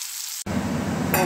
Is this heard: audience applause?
no